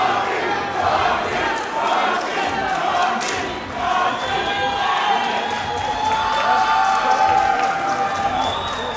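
A fight crowd at a PF6 combat event cheers and chants between rounds, a dense roar of shouting voices with rising and falling rhythmic chanting, fairly loud and continuous.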